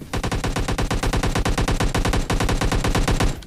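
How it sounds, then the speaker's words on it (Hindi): Rapid automatic gunfire in the PUBG Lite mobile battle royale game, a loud, unbroken stream of close shots lasting several seconds with one brief gap, no voices over it. "और देखना स्क्वाड्स की तरफ गोलियां चलती है कुछ"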